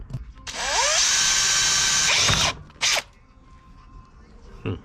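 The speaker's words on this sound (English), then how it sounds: "Let's drill this out." A power drill whines loudly for about two seconds, winding up and bogging as it bites into a part on a Honda CRX, followed by a brief second burst and a short tail.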